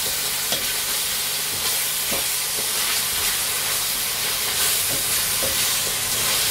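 Chicken curry paste sizzles and fries in a pan with little oil, a steady close hiss with scraping stirs of a utensil breaking through every second or so, no talking.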